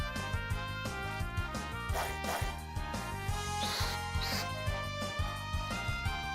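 Grim Wolf enemies bark in the PlayStation Portable game Brave Story New Traveler, short repeated game barks and yips over a looping, tonal music track, moderately loud and with no talking.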